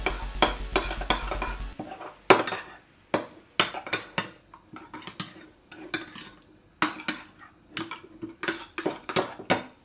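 Seasoned potatoes are stirred in a pan in repeated scraping, clinking strokes over a faint sizzle, with short gaps between stirs; no one speaks.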